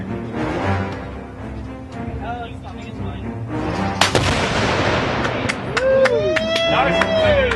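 A loud rifle shot strikes a Gryphon Energetics exploding binary target outdoors, setting off a sharp blast with a fireball and rumble, while people talk before and after.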